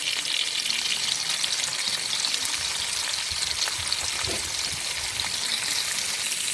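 Bacon fries in a pan with a constant, even hiss and fine crackling, steady and close with no pauses.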